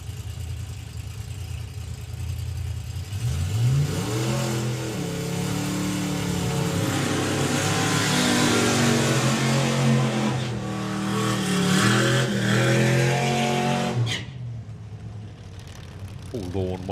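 Drag racing cars launch down the strip at a Sportsman Nationals event. A loud, sustained engine roar rises as the cars pull away, then fades, and a commentator talks over it.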